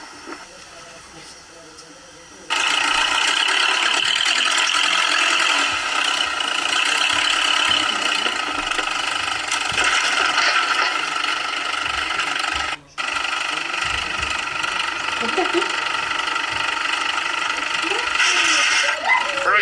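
An old farm vehicle engine, just flipped upright after lying on its side, starts and runs with a loud steady hissing drone that holds for most of the stretch and cuts out briefly near the end.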